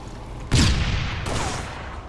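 Gunfire in a laggy online shooter game: a loud burst of shots erupts suddenly, then a second volley follows a moment later, dense and sustained with booming low end, without talk.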